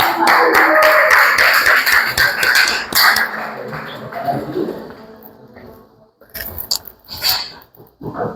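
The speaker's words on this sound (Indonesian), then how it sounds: "Oke, tepuk tangan dong." A classroom audience at a teacher-training session in Indonesia claps in a loud burst that breaks into scattered, uneven claps and taps before fading, with a few later isolated claps and bumps.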